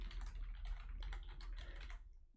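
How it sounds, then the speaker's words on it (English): Fingers typing on a keyboard during a live tarot reading, a dense run of quick clicking keystrokes over a steady low hum, close and continuous before thinning out near the end. "why am I typing all that out?"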